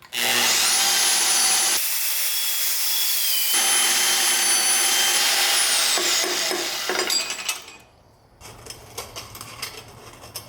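A pipe is cut shorter with a power tool during a Cummins engine swap into a Ford F-350 dually, a loud whining grind that pauses briefly, then resumes before winding down into quieter clattering.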